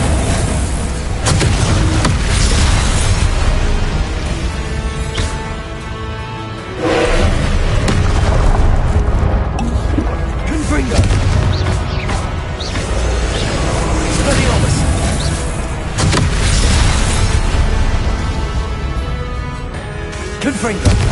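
Incendio fire spell bursts in Hogwarts Legacy, heavy whooshing booms and thuds repeating every few seconds among other spell blasts, loud and dense with a constant game soundscape underneath.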